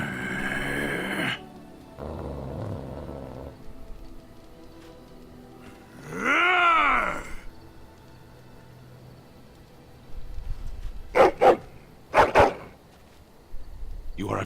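A dog companion in Dragon Age: Origins groans and barks, a rising-and-falling whine in the middle followed by two sharp barks near the end, with people talking at the start.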